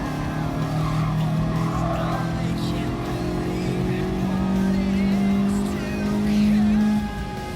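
A 1991 Honda Beat kei car races in Gran Turismo Sport, its engine holding a steady high drone that climbs in pitch toward the end, with faint tyre noise and a voice talking underneath.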